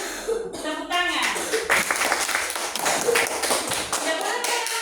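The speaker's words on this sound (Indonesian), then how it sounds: "Tepuk tangan." A class of pupils claps hands together, uneven bursts of clapping mixed with talk and a little laughter, loud and close in a small room.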